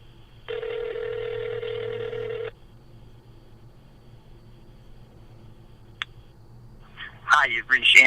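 A telephone ringback tone on an outgoing call to a radio show guest: one long buzzing ring lasting about two seconds, then quiet line hiss, a click, and a voice answering at the end.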